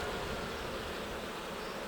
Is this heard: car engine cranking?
no